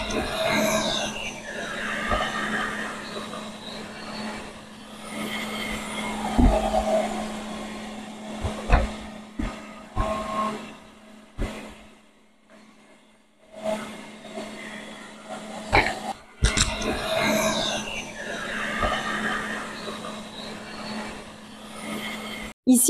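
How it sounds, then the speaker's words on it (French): A Lefant M210P robot vacuum cleaner runs in whole-house mode, its steady motor hum and brushing carrying on for most of the stretch with a few sharp knocks and a brief quieter gap midway. "Ici, je teste le mode d'aspiration de toute la maison, qui fait donc des allers et retours."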